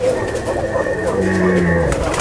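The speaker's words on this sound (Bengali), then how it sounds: "এটা হলুদ দোবাস কবুতর" A yellow Dobash pigeon coos in low, steady tones close by, with a faint voice and other bird sounds in the background.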